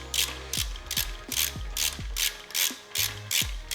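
Ratchet tightening the breather screws on a Harley Road Glide, a series of about eight quick, close clicking bursts in an even rhythm with short pauses between, and no talking.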